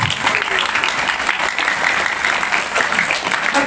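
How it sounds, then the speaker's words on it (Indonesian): Applause from an audience of junior high school students at a Maulid Nabi gathering, a dense, even wash of clapping sustained throughout at close range. "Tepuk tangan."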